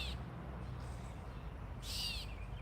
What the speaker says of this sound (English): It's a catbird.